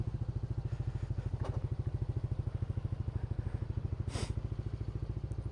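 A Yamaha NMAX scooter engine idles after warming up, a steady, even low putter with fast regular pulses, close and alone with no talk.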